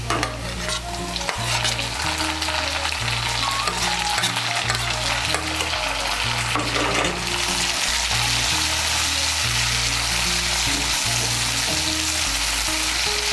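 Chopped tomato frying with onion, ginger and garlic for kakrol (spiny gourd) ghonto, a loud, close, continuous sizzle with rhythmic scraping stirs throughout, no speech.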